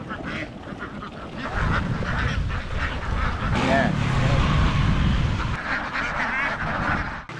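A large flock of more than 2,000 farm ducks is driven along a road, giving off a loud, dense, continuous wash of quacking that carries on for the whole stretch without a break.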